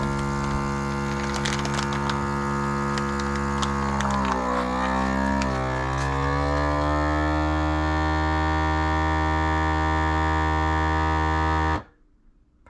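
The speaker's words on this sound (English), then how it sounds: "Got my vacuum sealer here, and I'm gonna go ahead and put it on moist," A steady motorized hum of a vacuum sealer on its moist setting drawing air from a bag of deer meat, pitch dipping briefly midway, running continuously before cutting off abruptly near the end.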